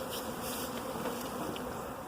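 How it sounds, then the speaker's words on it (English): Honey bees buzz steadily around a swarm box as the swarm files in and settles, a soft, continuous hum with no break. "Much quieter bees."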